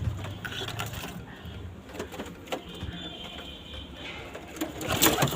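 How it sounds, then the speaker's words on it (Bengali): Pigeons cooing in a home coop, repeated low soft coos from several birds close by, mixed with rustling, wing flutters and occasional scraping clatter. "এখানে চারটে পায়রা, এখানে দুটো পায়রা জোড়া দিয়েছি"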